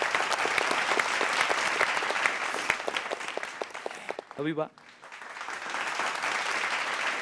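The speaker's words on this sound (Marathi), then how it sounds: "एकदा जोरदार टाळ्या." Loud, sustained applause from a studio audience at a Marathi television show, dense clapping filling most of the stretch with a brief lull near the end before it resumes, and a voice briefly speaking over it.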